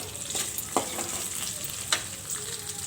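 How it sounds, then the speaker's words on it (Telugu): Thinly sliced onions fry in a pan, a soft steady sizzle broken by a couple of sharp stirring clacks, close and with no voices. "సన్నగా కట్ చేసుకున్న ఆనియన్స్ కూడా వేసుకోవాలి వీటన్నిటిని బాగా ఫ్రై చేసుకోవాలి"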